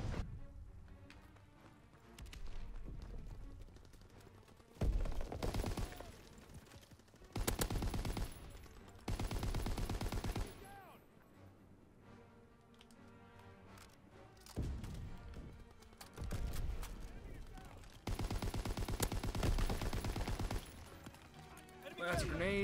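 In an online shooter game, a grenade blast goes off amid bursts of gunfire, loud broadband explosions and volleys recurring through the stretch, alternating with quieter gaps under a player's commentary.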